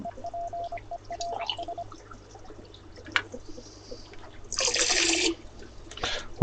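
Water is poured into an aquarium fish tank in a short splashing burst of under a second, after a few faint drips and small clicks in a quiet room.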